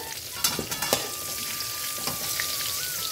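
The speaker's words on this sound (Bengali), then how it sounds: "এবার আলু পটলটাও আমি তুলে নেব, কারণ এটা ভাজা হয়ে গেছে।" Potato and pointed gourd fry in oil with a close, dense sizzle, while a utensil scrapes and stirs through the pan in a few quick knocks early on. No voices are heard.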